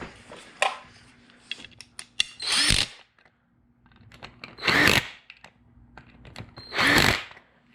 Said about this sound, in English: we'll put our 10mm bolts back in it